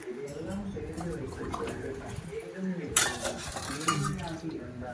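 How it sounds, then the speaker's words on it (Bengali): Sea fish frying in a pan at a small roadside hotel kitchen, with a steady sizzle, metal utensil scrapes and clinks of pans, and people talking nearby throughout. "ওই যে মাছ, সামুদ্রিক মাছ এখন ভাজবে"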